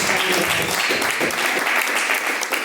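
Loud, sustained applause from a Pentecostal congregation at an IPDA service, many hands clapping in a dense wash that stays steady throughout, with a faint murmur of voices underneath.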